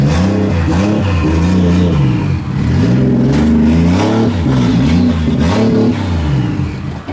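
A Nissan S13 drift car with a 1JZ engine revs loudly and close while driving onto a trailer, its pitch rising and falling repeatedly as the throttle is blipped.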